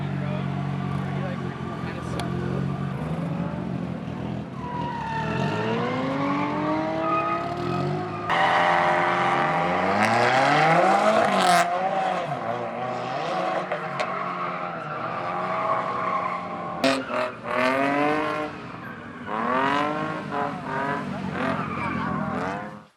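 A turbocharged Nissan 240SX drifts with its engine revving up and down in rising and falling sweeps, mixed with tire squeal and skidding, fairly close and loud throughout, with voices talking over parts of it.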